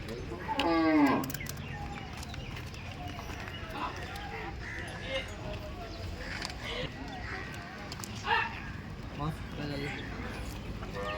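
Gir cows at a busy Maharashtra cattle market, with faint lowing and animal movement under constant nearby talk and crowd noise.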